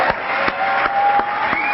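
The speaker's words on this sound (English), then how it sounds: "Can we have another round of applause for Tom?" An audience claps for a speaker at a 1988 meeting in Virginia, captured on an old, muffled tape, with a steady wash of applause and a few sharper hand claps standing out.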